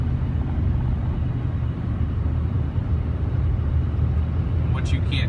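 Dodge Ram 3500 dually pickup rolling along a narrow, bumpy country road, a steady loud low rumble of engine and tires throughout from inside the cab, with a faint brief sound near the end.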